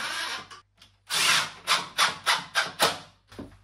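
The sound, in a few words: screws being driven in with a power tool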